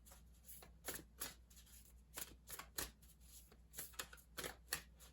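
Moonology Oracle cards are shuffled by hand in close, quiet riffling bursts, about eight or nine brisk flutters spaced through the moment with short pauses between them.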